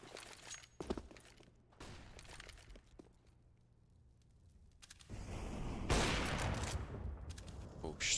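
Bursts of rifle fire in Counter-Strike on the Mirage map during an ESL Challenger League match, with sharp shots early, a lull, then a louder, denser volley of gunfire toward the end.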